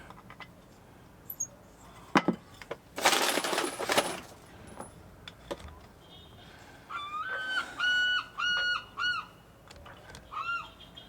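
Seagulls call in short bursts of repeated cries near a moored sailboat, following a few sharp knocks and a brief rustling clatter, all fairly quiet against a calm outdoor background.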